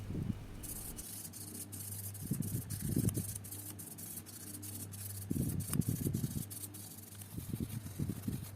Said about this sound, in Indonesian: Lanjut kita akan amplas lagi menggunakan amplas grade 1000 ya, biar lebih halus lagi